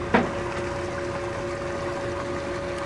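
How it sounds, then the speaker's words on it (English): Bilge pumps and an engine run on a nearby boat, making a steady, loud droning hum with a constant tone that holds throughout. A brief thump sounds near the start, and no one speaks. "the loud noise you hear to our left is somebody's bilge pumps going"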